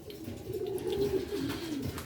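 Racing pigeons coo steadily in a loft, a low continuous rolling murmur from several birds close by, with faint chirps above and no talking.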